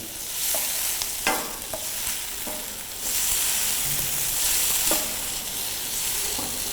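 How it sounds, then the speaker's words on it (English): Vegetables sizzle and fry in a pan while being stirred, a constant hissing fry broken by sharp scraping and clacking strokes of the utensil at irregular intervals, close and clear. "Now mix it properly so that all the vegetables become tender."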